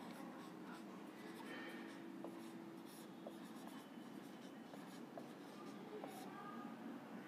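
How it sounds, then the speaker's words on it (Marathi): Pen writing on paper during a motivational lecture for students, a steady soft scratching that runs through the whole stretch with a faint background hum and no talk. "मी थोडं खाली लिहितो"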